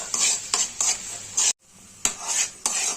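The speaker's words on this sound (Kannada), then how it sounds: "ಇದನ್ನ ಇವಾಗ ಎಣ್ಣೆಯಲ್ಲಿ ನೀಟಾಗಿ ಫ್ರೈ ಮಾಡ್ಕೋಬೇಕು" A paste fries in oil for veg fried rice while a spoon scrapes the pan in rhythmic strokes, each bringing a burst of close sizzling, with a short pause midway.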